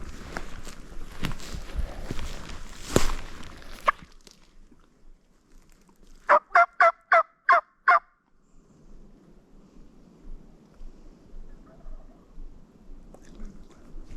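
A young male wild turkey (jake) gobbles in a quick run of about seven sharp pulses at moderate distance, after rustling and footsteps nearby, then quiet outdoor ambience in South Dakota.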